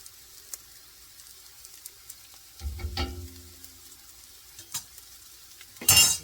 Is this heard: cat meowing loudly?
no